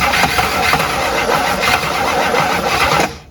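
Engine of an abandoned 1958 Super car cranks and catches for its first start, running loud and rough with a steady mid-range roar close by for about three seconds before cutting out abruptly.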